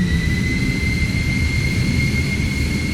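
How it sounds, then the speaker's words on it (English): A jet airplane flying a wave-shaped parabolic path gives a steady, loud engine roar, with a constant high whine held throughout and no breaks. "The plane flies in a wave pattern in the sky."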